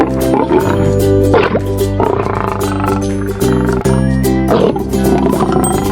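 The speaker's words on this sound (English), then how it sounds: "Lion." A lion gives deep, rumbling roars in a few long bursts, loud and close, over a steady musical backdrop.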